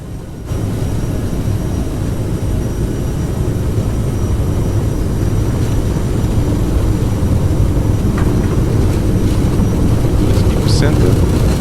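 Aerosoft CRJ 700 regional jet spooling up for takeoff in Microsoft Flight Simulator, a dense, steady engine rumble that swells after a brief quiet start and holds loud and continuous.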